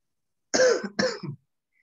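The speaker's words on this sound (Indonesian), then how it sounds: "Masih batuk-batuk," Two short, dry coughs in quick succession, close by, followed by silence.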